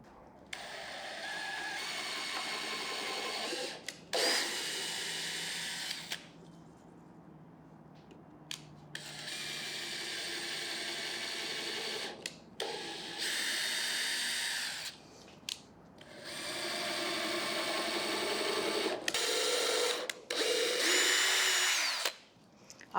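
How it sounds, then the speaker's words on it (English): Power drill boring pilot holes in thin wood pieces for a shelf utility rail, in several loud whirring bursts of a few seconds each, separated by short pauses, close by. "now that all our pilot holes are drilled"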